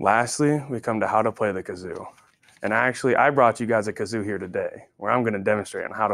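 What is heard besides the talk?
None of the usual background noises is heard.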